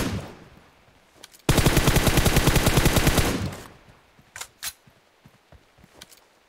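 Sustained automatic gunfire from PUBG Mobile, a loud rapid burst of evenly spaced shots lasting about two seconds, followed by a few scattered single shots in the distance.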